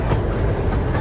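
An amusement park train at Lightwater Valley rumbles steadily on its track around a lake, a close, loud, continuous low roar.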